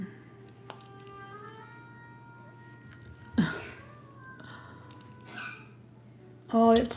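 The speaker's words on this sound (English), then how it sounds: "oh, that poor doggy has a cough" A dog coughs in a room, faint harsh bursts with one louder hacking burst at the end, over a steady background hum and tonal sounds.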